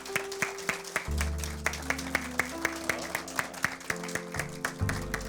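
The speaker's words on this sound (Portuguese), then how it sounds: "aplausos do auditório" An auditorium audience at a live show applauds as an artist heads to the stage, scattered sharp claps repeating at a moderate pace over sustained low music tones.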